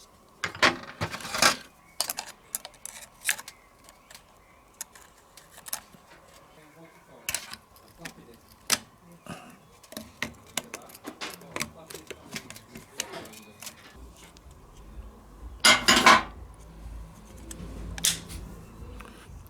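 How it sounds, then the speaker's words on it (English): Metal clicks and clanks of a circlip being worked into a Vespa largeframe clutch, a sharp loud snap near the end amid scattered small tool and part contacts, close up with no talking. "So just put a bit of oil on there, and then we can put the circlip in."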